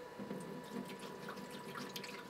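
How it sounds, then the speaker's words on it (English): Water poured by hand into the reservoir opening of a Tuttnauer T-Edge autoclave, a quiet, steady trickling and splashing that runs unbroken for a couple of seconds with no voices. "we'll take this off and pour the water into this hole right here"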